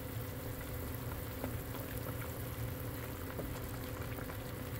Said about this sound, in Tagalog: piniprito ko na